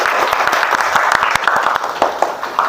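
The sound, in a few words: classroom applause after group presentation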